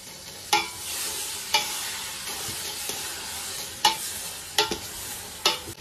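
Green beans stir-frying in a pot with soy sauce, a continuous hissing sizzle punctuated by several sharp, near clanks and scrapes of a spatula against the metal.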